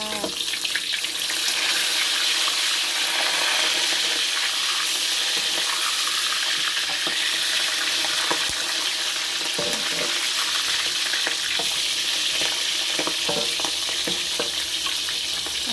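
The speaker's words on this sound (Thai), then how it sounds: "เพราะว่าเขาทอดหมูพี่น้องจ้า" Pork frying in a pan of hot oil for crispy pork, a loud continuous close sizzle and crackle with occasional clinks, no talk.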